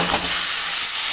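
Chopped bottle gourd and chillies dropped into a hot pan of cooked-down spices burst into a loud, close hiss that holds briefly at full strength, with no voices.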